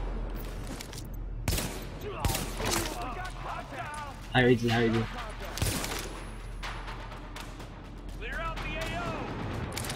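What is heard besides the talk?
gunfire in video game Tom Clancy's The Division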